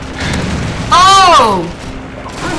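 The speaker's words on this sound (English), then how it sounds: "Grenade them." Grenade explosion in Call of Duty 4: a single loud boom bursting out of ongoing game sounds and gunfire, with a ringing, warbling tail fading over about half a second.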